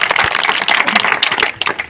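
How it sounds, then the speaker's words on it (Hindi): A crowd at an outdoor political rally breaks into applause, a dense patter of many hands clapping at once, loud and sustained for a couple of seconds. "ताली बजा दो।"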